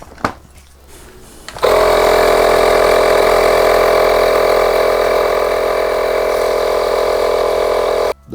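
An air compressor starts abruptly and then runs steadily and loudly while inflating a motorcycle tyre in a home garage, a constant droning hum that stops near the end.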